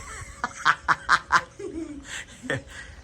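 Four quick, squeaky quacks in a row from a toy duck, then a couple of softer honking squeaks, close by with a faint voice in between.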